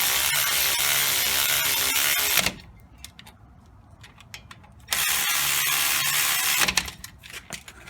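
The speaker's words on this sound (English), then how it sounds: "I use that ratchet to break bolts and tighten them" Cordless ratchet tightening front brake bolts on a 2004 Cadillac Escalade: two loud buzzing bursts of rapid clicking, separated by a quieter pause of shop noise.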